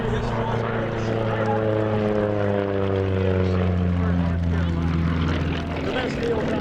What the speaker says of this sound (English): Hubie Tolson from Bern, North Carolina, is the only Sukhoi pilot in the world accomplishing that maneuver you just saw.